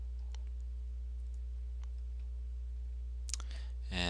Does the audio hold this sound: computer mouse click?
yes